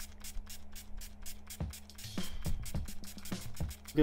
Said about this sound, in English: I'm going to take some setting spray.